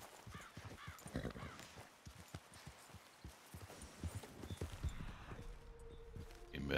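In the video game Red Dead Redemption 2, steady clip-clopping hooves with a horse snorting, a soft rhythmic brushing beneath as the horse is groomed, and a brief tone near the end; no talk.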